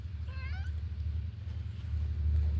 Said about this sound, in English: we have a cat over here wanting to make a